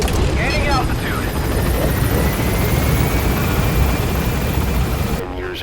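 A helicopter in Metal Gear Solid V gains altitude. Its dense, loud rotor thrum fills the whole stretch, and voices talk over it.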